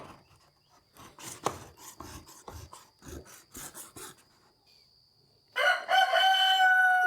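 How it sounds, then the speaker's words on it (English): A Japanese gardening tool's bevel is sharpened by hand on diamond stones, giving a run of short, rhythmic rasping strokes, close and fairly crisp, followed by a louder burst of other sound at the end. "I'm using my diamond stones and just sharpening up that bevel."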